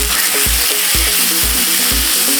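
Small pieces of salmon sizzle loudly in a frying pan, a steady close crackle with regular thumps and scrapes as the pieces are stirred.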